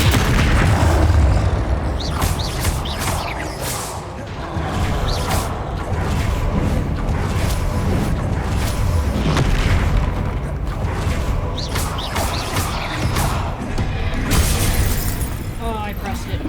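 Magic spell blasts from Confringo and Expelliarmus in the Hogwarts Legacy video game, a dense run of booming, crackling bursts and impacts over game effects and music, loud throughout.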